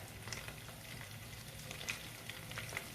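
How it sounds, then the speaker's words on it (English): Okra soup frying gently over low heat makes a soft, steady sizzle with faint scrapes and light clicks as it is stirred, quiet and close with no talking. "I'm actually frying this on low heat so that it's not too dry"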